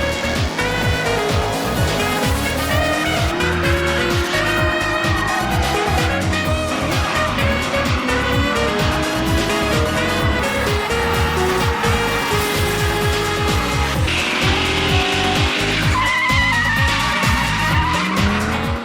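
Drift cars skid and squeal their tyres at the Slovenian Open National Drift Championship, the Racegasmic Drift Cup, with engines revving hard throughout in a loud, continuous roar of wheelspin and screeching rubber.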